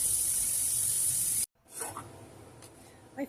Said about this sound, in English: if you push down on the brush while you're scrubbing, more soap seems to come out